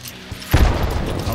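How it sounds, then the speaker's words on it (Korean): A bomb blast in Hunt: Showdown, with a sudden booming explosion landing partway through and rumbling on loudly, a faint shot or two before it and voices faintly mixed in. "폭탄"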